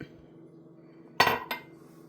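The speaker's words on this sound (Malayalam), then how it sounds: "ഇതും കൂടെ ഞാൻ ഈ റവയുടെ വറുത്ത റവയുടെ കൂട്ടത്തിൽ മിക്സ് ചെയ്യുവാണ്" A spoon clinks twice against a bowl while wheat granules are stirred into roasted rava for puttu. The two sharp clinks sit close together over a quiet background.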